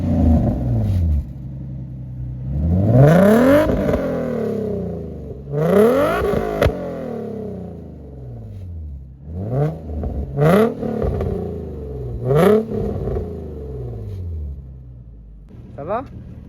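Car engine fitted with a Drift Shop Y-pipe and Cobra exhaust with flame arrestor and rear silencer, revving hard in a forest in repeated sharp bursts that climb and fall, loud and close, with brief pauses between blips.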